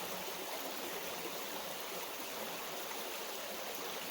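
A mountain creek in the wilderness flows with a steady, even rushing babble, soft and continuous from start to finish, with no voices or other sounds.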